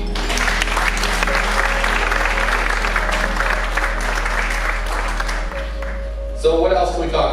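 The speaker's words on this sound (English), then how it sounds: "How about a round of applause for the whole team?" Sustained applause from a seated audience at a Rotary Club sunrise installation meeting, dense steady clapping filling most of the clip before thinning out as a voice begins speaking near the end.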